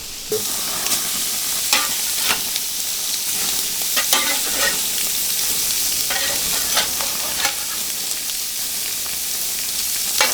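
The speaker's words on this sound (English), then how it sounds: "it's just really to sear the outside of it" Birria meat searing in a hot pan, a loud continuous sizzle with intermittent scraping and stirring strokes, close up and without speech.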